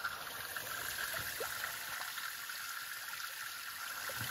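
Water runs at the spring of the Tietê river in Salesópolis, São Paulo, a soft continuous trickling rush heard alone and close.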